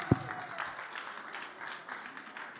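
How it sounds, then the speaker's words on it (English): Audience at a conference plenary session applauds, a soft, fairly distant wash of many hands clapping, steady and low in level after a brief thump. "A round of applause for them."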